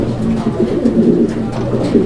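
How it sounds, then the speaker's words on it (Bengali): Large, lively fancy pigeons coo close by in a steady, continuous run of low, throaty, rolling calls, with no talk over them. "দেখেন কতটা অ্যাক্টিভনেস আর কতটা বড় সাইজের কবুতর"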